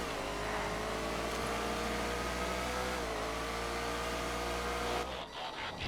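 A Zion GTC sports car racing in GTA FiveM, its engine holding a steady high whine with shifting pitch as it runs a lap, then cutting off abruptly near the end.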